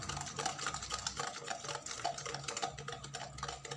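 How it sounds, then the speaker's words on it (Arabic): A continuous whirring, churning mechanical drone with rattling texture, an electric mixer beating Italian cake batter until creamy, steady throughout with no talking. "غادي نستعمل الخلاط الكهربائي حتى يولي عندي هذا الخليط كريمي"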